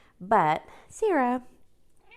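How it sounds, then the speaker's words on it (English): A house cat gives two clear, close meows in quick succession, and someone speaks briefly before them. "sorry, that's my cat."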